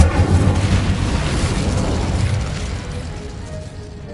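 A burst of fire erupts from an Incendio spell in Hogwarts Legacy, a loud whooshing blast at the start that roars and slowly fades away over several seconds.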